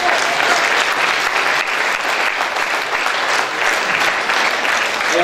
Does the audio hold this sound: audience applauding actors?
yes